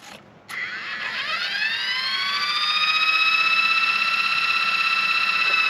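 A C138 RC helicopter motor whines steadily on a weakening battery, a high, continuous tone that starts after a brief thump and holds for several seconds, close and fairly loud.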